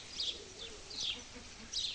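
Young pigeons kept in a coop coo softly in a few short, repeated calls, faint and moderately distant, with light chirping between them.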